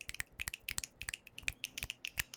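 Many people snapping their fingers together in a crisp, uneven patter of clicks, quiet and steady across the whole span, no voices over it.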